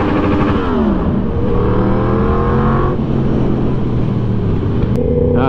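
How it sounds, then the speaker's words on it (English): Motorcycle engine revving loudly and close in road traffic, with a steady roar and a rising rev near the start and a short blip at the end, alone without talk. "This guy's pissed off that I revved at him."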